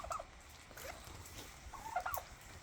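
Turkeys on a poultry farm that also keeps large grey geese gobble faintly in a few rapid bursts over a soft, noisy background.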